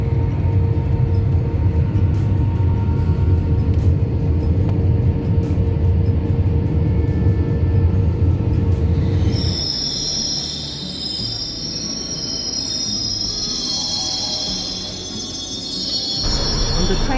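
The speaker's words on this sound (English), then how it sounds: "The train out to London." A train bound for London rolls along the rails with a loud, steady low rumble that drops away midway, then high wheel squeals ring out over quieter running noise.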